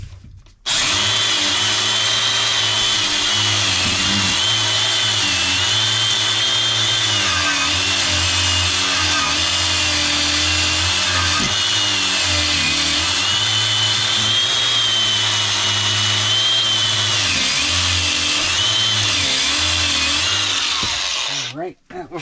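A power tool, likely a drill with a cleaning attachment, scours rust off the brake caliper mating surfaces of a 2016 Scion tC during a front pad replacement. It grinds loud and steady for about twenty seconds, then stops.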